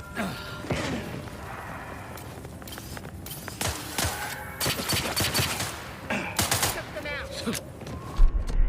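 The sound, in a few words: gunfire from the video game The Outer Worlds 2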